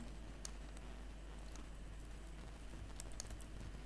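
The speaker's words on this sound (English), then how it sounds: "press delete on my keyboard" Faint, sparse clicks of keys being pressed on a computer keyboard over a low steady hum, with a few quick taps near the end.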